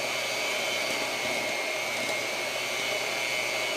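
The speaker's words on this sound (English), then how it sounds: "You'll feel that mixer kind of move through it a little bit easier." Electric hand mixer whirring steadily through thick low carb double chocolate chip cookie dough, a constant close motor drone with no break and no talk.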